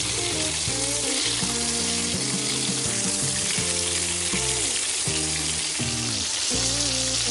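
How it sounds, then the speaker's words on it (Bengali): Pieces of fish shallow frying in hot oil give a steady, loud, close sizzle with continuous crackling that fills the whole stretch, with louder tonal clatter of a pan and utensil layered underneath; no voices. "এবার মাছের পিসগুলো আমি কড়া করে ভাজবো না, হালকা শ্যালো ফ্রাই করে নিচ্ছি"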